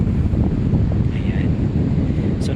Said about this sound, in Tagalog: ganyang kalalaki ang alon ngayon